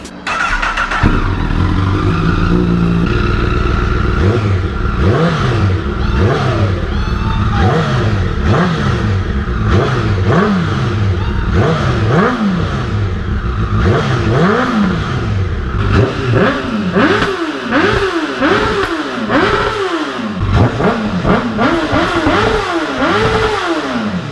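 A Honda CBR1000 sport bike fitted with a Yoshimura R-77 exhaust revs loudly and repeatedly, each throttle blip rising and falling in quick succession, close to the microphone with no talking.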